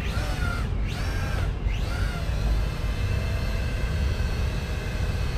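A Z908 Pro toy mini drone takes off, its small propellers giving a high, buzzing whine that swoops up in pitch twice as the motors spin up, then holds a steady, close drone over a low rumble.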